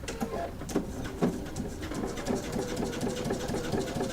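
A sewing machine runs a hand-look straight stitch in a steady, fairly close mechanical whir, while birds coo in the background.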